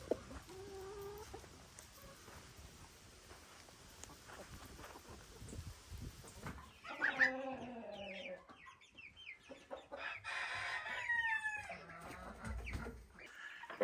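Farm chickens cluck softly in the background at first, then a rooster crows and a flurry of louder clucks and squawks breaks out nearby on a summer farm.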